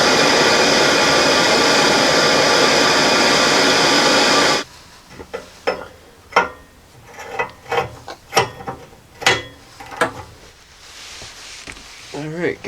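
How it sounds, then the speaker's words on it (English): A torch heats the welded O2 sensor bung on the exhaust front pipe of a Jeep Cherokee XJ, a loud steady roar for about four seconds that cuts off into scattered metallic clanks and ratcheting. "I'm going to take a torch to this and just heat up the O2 sensor bund that's welded in here"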